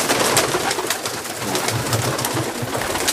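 Soft repeated cooing of pigeons over a dense, steady bed of rustling and chatter, with low rounded calls pulsing several times.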